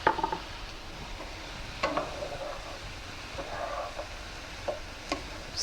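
Chicken fried rice sizzles softly in a pan while a utensil stirs it, with scattered scraping clicks and light clanks over a steady low fry hiss.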